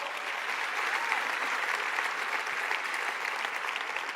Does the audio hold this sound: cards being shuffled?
no